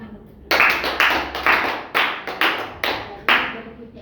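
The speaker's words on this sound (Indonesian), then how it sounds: "Tepuk tangan untuk kita." A group claps in unison in a classroom, giving about seven loud, sharp, evenly spaced bursts of hand claps, each ending in a short decay.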